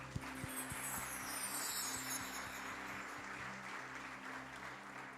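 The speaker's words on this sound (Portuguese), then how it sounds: "Você pode aplaudir ao Senhor?" A church congregation applauds in a steady, moderate wash of clapping that continues evenly through the clip, with a faint low background hum underneath.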